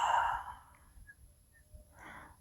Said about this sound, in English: take slow breaths through the nose and a long, soft exhale through the mouth